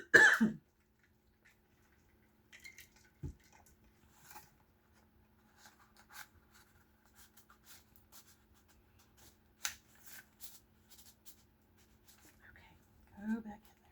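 A single sharp, loud cough opens the stretch, then quiet, sparse rustling and tapping of paper and cards being handled on a desk.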